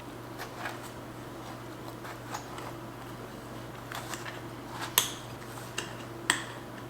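A knife chops through a quarter of a pie on a board in a quiet home kitchen, giving scattered soft taps and a few sharper clacks of the blade, close by and fairly faint with no talking.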